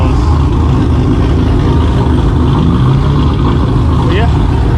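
A pristine car's engine idling nearby, a steady loud low rumble that holds throughout without revving.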